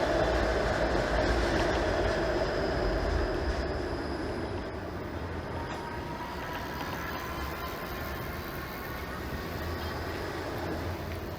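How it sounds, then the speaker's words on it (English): A streetcar rumbles past on a city street, a steady broad mechanical roar with faint rail clatter that is loudest at the start and eases slightly as it moves along. "Even that streetcar was getting the jump on the light about to change there."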